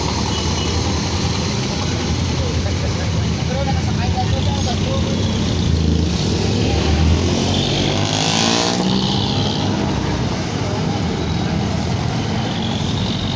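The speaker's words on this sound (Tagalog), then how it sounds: "Traffic sa Mulok, aga-aga oh." Morning road traffic in Mulok, heard as a continuous close rumble of cars and trucks with engines revving and passing. One vehicle swells louder midway, and faint voices sit under the steady roar.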